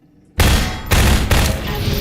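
Gunfire in Half-Life 2 aimed at a cylinder, a silent moment broken by a loud burst of rapid shots and blasts that rings on, a second heavy burst following, close and harsh.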